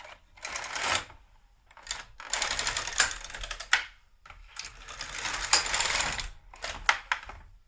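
A GK 370 knitting machine carriage slides back and forth across the needle bed knitting two rows, giving bursts of loud, rattling mechanical clatter separated by brief pauses, close up and without talk.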